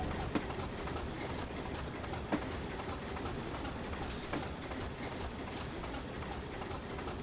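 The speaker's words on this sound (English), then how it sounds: "Oh, it's a freight train." Freight train rumbling past in the Train Simulator Classic game on the Buchan Line from Aberdeen to Peterhead, a steady loud rolling roar with a few faint clanks, no talk.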